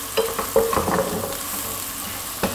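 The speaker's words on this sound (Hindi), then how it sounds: "हम इसको हल्का सा फ्राई करेंगे" Cumin seeds and dried coriander sizzle lightly in hot oil with onions for an aloo samosa filling, a loud, even crackle broken by a few spoon stirs and scrapes, with no talking.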